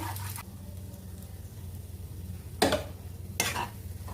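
Spoon scraping and clinking against a pan while giant taro (mankochu) is stirred, over a low steady cooking hiss, with two sharp metallic knocks near the end.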